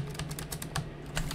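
Quick typing on a computer keyboard during online PvP gaming, a close run of crisp key clicks in irregular bursts over a low steady hum, with no voices.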